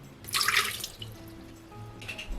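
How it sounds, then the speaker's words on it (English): Water is poured into a Chef Robot CR7 10-in-1 kitchen appliance, with a close, splashing burst of liquid and a shorter trickle a moment later. "So we've got some water going in there."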